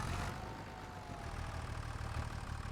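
Tractor engine idling in Farming Simulator 25: a steady low, rumbling drone with a slight pulsing throb, loud and continuous throughout.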